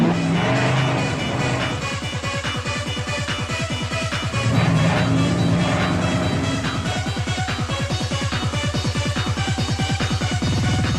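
A drifting car in a film trailer roars with a loud, continuous engine howl that rises and falls through repeated revs, tires scrabbling beneath, staying close and dense for the whole stretch with no voices.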